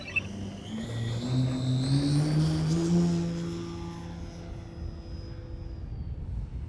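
An ARS 300 RC plane on its maiden flight passes with a rising and then falling engine whine as it flies by and recedes into the distance.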